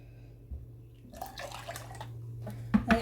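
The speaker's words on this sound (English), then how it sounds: "I'm going to mix that with 1/2 cup of water out of the jug that's boiled" Freshly boiled water is poured from a jug into a cup of cold water for a yeast mix for soft pretzel dough, a short, close splashing pour over a low, steady background hum.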